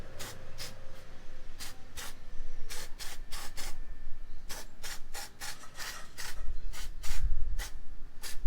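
Aerosol rust treatment sprayed onto rusty parts of a Motorstar Cafe 150 motorcycle, heard as many short, sharp hissing bursts in a fast, irregular rhythm, close and loud over faint background rumble, with no speech.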